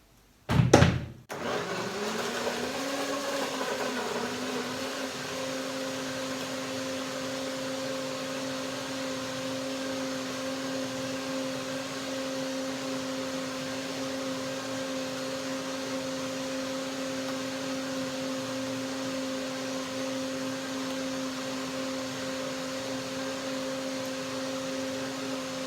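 A blender whirs into a steady, high-pitched motor drone after a brief loud startup burst, blending papaya and cherimoya pudding with a little water, running unbroken and fairly close for over twenty seconds without speech.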